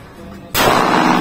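A single sharp gunshot from a Taurus G3C 9mm pistol, a sudden loud crack with a rough, noisy tail, close to the listener, after a brief quiet lead-in.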